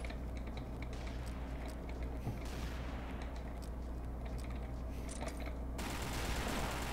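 Gunfire from the online shooter Combat Arms in a capture-the-flag match, rapid bursts of automatic rifle shots crackling faintly with a low steady background, no voices.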